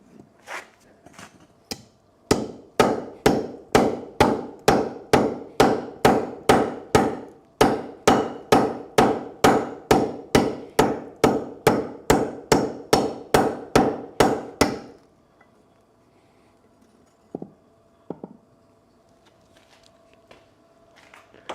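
Hammer forging metal on an anvil, a long steady run of about thirty sharp ringing blows in an even rhythm, then a pause and a few scattered light taps.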